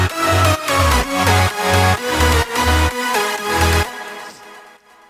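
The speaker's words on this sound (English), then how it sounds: "So that's basically all the main layers in the drop done" Layered electronic dance drop from a remix, with thick, pulsing synths and heavy bass hits in a steady rhythm, all stopping cleanly near the end and leaving a fading tail.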